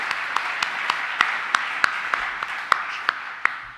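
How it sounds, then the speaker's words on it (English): A conference audience applauds steadily, a dense wash of clapping from many hands with a few louder, sharper claps standing out close by, and no voices over it. "can we just give them a round of applause?"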